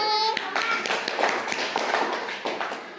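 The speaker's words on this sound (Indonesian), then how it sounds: "Beri tepuk tangan dulu untuk kelompok 1." Primary school classroom children clapping for a group, a short ragged round of hand claps with a voice briefly heard at the start.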